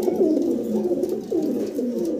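Black Lahori pigeons coo close by in low, rolling, repeated calls that overlap almost without pause.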